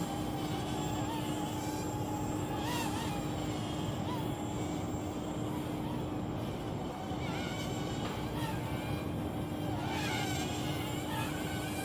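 A Hubsan X4 H107C quadcopter flies nearby with a continuous high-pitched motor whine and buzz that rises and falls as it yaws and pitches. The sound is steady and fairly loud throughout.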